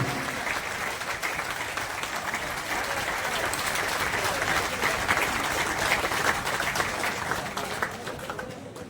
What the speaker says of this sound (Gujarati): સન્માન કરશો તાળીઓથી બધા મિત્રો